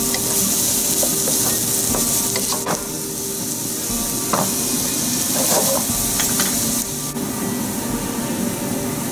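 Onions sizzle steadily with salt in a pan for Ethiopian misir wat, a continuous loud frying hiss broken by occasional stirring scrapes and small pops.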